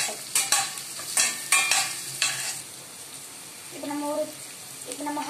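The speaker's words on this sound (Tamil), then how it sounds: "அப்புறம் நம்ம வந்து தக்காளி பச்சை மிளகாலாம் போட்டு வதக்கிக்கலாம்" Tomatoes and green chillies sauté in a pan for mutton kuzhambu, with a soft sizzle under a run of sharp scraping stirs from a spoon against the pan. A voice briefly speaks near the end.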